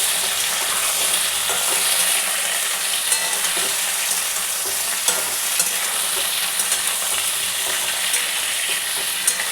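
Ridge gourd goes into a pan of frying potatoes and sizzles loudly and continuously, with a dense, bright hiss that holds steady throughout, close up and with no voices.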